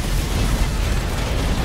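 Mine explosions in the video game Assault Android Cactus roar as a dense, continuous booming blast that stays loud throughout.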